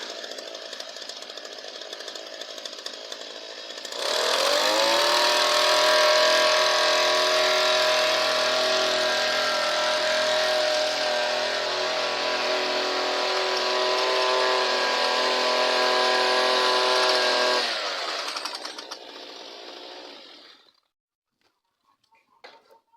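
A homemade walk-behind hiller with welded-on grouser lugs starts up, its small engine roaring steadily and close as it drives for about fifteen seconds, then winding down to silence.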